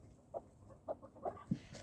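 Short, soft hen clucks, four or five separate bursts with brief pauses between them, close by in a quiet setting.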